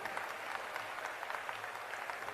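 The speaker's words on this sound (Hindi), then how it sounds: "दोनों हाथ उठा के ताली तो बजा सकते हो ना इनके लिए" An audience claps for visiting ambassadors at a daughters' farewell ceremony, steady dense applause from a crowd held at a moderate distance, fairly quiet throughout.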